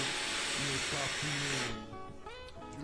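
A vape exhales vapour in a loud, close breathy hiss that stops abruptly partway through, and a voice is then heard faintly.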